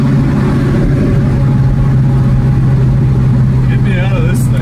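A 1968 Oldsmobile 442 driven hard, with a loud close engine drone running throughout and a voice cutting in near the end.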